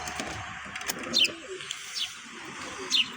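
Soft pigeon coos repeat a few times against quiet outdoor background noise, with faint chirps here and there.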